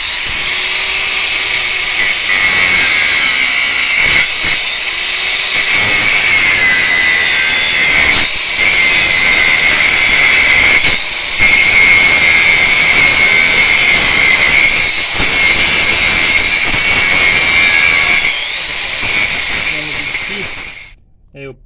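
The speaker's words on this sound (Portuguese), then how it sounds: "Eu peguei a lixadeira," A sander cutting the head off a small gear lever pin from a Monza hatch, a loud steady high-pitched grinding whine held for about twenty seconds before stopping abruptly.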